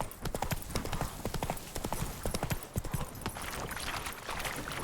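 Horse hooves from a video game while riding clop in a quick, steady galloping rhythm, close and prominent over a low ambient bed, with no talking.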